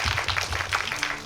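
Audience applause at a film Q&A screening for the Korean movie Phantom, a short burst of steady clapping from a crowd, moderately loud and continuous.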